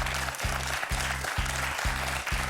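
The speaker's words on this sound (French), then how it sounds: "Est-ce qu'on peut applaudir Sébastien, qui vient de faire un 8 à la suite?" A studio audience on the French quiz show Questions pour un Champion applauds steadily in a dense, even wash of clapping, with a low pulsing hum repeating underneath throughout.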